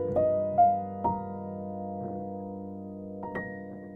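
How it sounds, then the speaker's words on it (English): On a keyboard, an altered dominant seventh chord with flat nine, sharp nine and flat thirteen rings out, its notes struck in a few separate attacks over a sustained tone and decaying softly, with no one talking. "So this would effectively be a flat 9, sharp 9, flat 13, dominant 7 chord."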